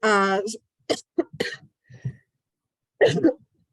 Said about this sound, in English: I'm gonna try to talk without coughing